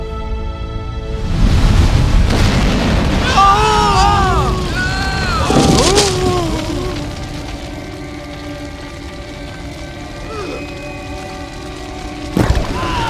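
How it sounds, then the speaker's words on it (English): Fire falls from heaven in a biblical drama, an explosive roar and rumbling crash, with loud bursts early and near the end and crackling under voices crying out. "Fire from heaven!"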